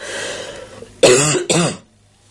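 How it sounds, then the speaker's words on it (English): Two harsh, close coughs in quick succession break a quiet room, each short and throaty, followed by silence. "I seem to still have my cough that's left over from before Christmas."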